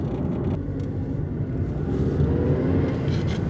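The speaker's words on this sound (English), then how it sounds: "it revs really freely as well." A 2001 Mazda Demio with 122,000 miles on it, its engine droning with a low, steady rumble that builds slightly, heard from inside the car with no talking.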